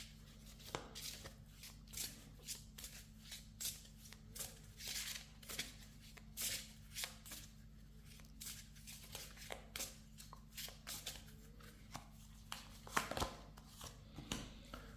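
Tarot cards being shuffled by hand, a quiet run of soft rhythmic riffling and flicking taps repeating steadily, close and faint, with no talking over them.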